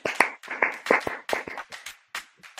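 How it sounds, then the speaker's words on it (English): Hands clap sharply in an uneven rhythm, about a dozen close, crisp claps with brief pauses between bursts. "Let's get to clapping."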